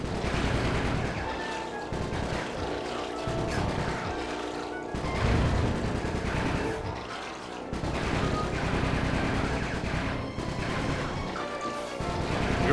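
Gunfire in the Sly 3 video game rattles out in loud, repeated bursts and crashes, rising and falling across the whole stretch with no pause.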